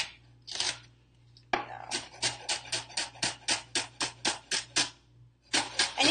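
Knife chopping celery on a cutting board for a vegan eggless egg salad: a couple of isolated cuts, then a quick steady run of about a dozen crisp, evenly spaced chops, close and clear with no talk.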